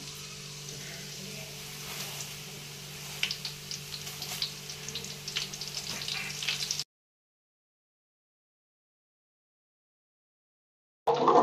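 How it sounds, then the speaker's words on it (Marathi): Curry leaves frying in hot oil for poha give a steady close sizzle with soft crackles and light stirring over a low hum for several seconds. Then silence, then a short loud burst at the very end. "मस्त असा कढीपत्ता तळून घ्यायचा"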